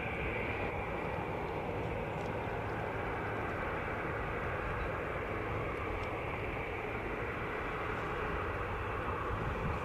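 Airliner landing on runway 07 at Montego Bay, Jamaica, heard as a loud, steady broadband engine roar that holds evenly for the whole stretch, with no talk on top.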